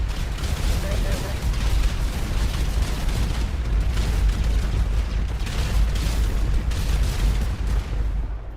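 Fireworks go off in the FiveM video game during a birthday event, a dense continuous barrage of booms and crackling bangs, loud and close, with voices talking over them.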